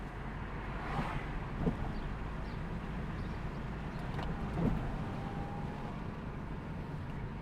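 Car interior during a driving lesson, engine droning low and steady under a broad rumble of road and wind noise as it speeds up gently, with no talking.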